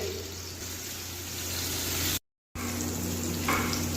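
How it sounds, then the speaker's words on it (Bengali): Potatoes fry in hot oil until golden, a steady close sizzle that cuts out for a moment before resuming. "এখন উনি আলু ভাজি করতেছে, আলুগুলোকে একটু গোল্ডেন কালার করবে।"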